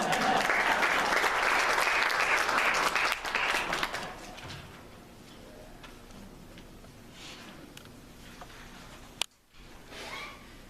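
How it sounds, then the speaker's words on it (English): A congregation applauds at a Sunday sermon on loving enemies. The clapping is loud and dense for about four seconds, then fades to a quiet room with a single sharp knock near the end. "A round of applause for him."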